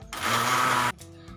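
A kitchen mixer blends watermelon juice in one short, loud whirring burst of under a second that cuts off abruptly, followed by quiet clatter.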